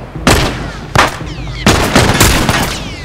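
Loud, sharp gunshots in The Last of Us Part II video game, three or four close reports fired in quick succession with ringing echoes between them.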